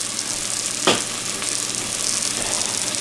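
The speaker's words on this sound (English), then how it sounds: "We've got a little stir around, get it all incorporated" White chicken chili ingredients with oregano being stirred in a pot, heard as a constant frying hiss with one brief utensil scrape near the start, close and without voices.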